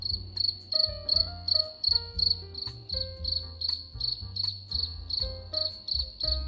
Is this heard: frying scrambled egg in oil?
no